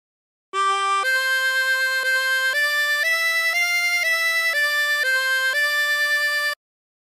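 A harmonica plays a slow melodic phrase of The Streets of Laredo, a series of clean sustained notes stepping up and back down, each held about half a second, heard clearly and alone with no talking.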